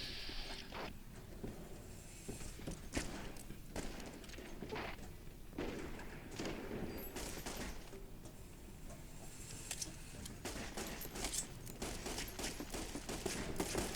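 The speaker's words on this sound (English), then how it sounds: "Sunny Smiles caught some friendly fire, and suddenly I'm the villain" Gunfire in a saloon fight in the video game Fallout: New Vegas, with rapid scattered shots and thuds packed densely throughout, steady and moderately loud with no pauses.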